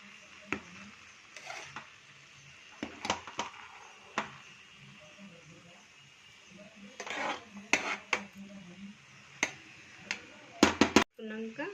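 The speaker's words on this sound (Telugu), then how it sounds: "ఒకసారి ఇట్లా కలుపుకోవాలి" A spoon stirring food in a metal cooking pot on a home stove: scattered clinks and scrapes at irregular intervals, fairly faint, with light background noise.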